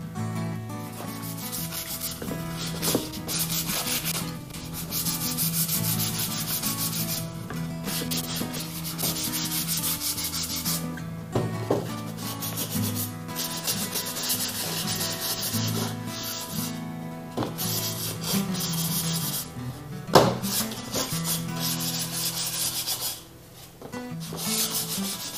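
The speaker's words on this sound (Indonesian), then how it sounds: "Selanjutnya kita coba amplas" Steady rasping of sandpaper rubbed back and forth over a wooden hexagonal shelf, continuous and close, with brief pauses in the scraping rhythm.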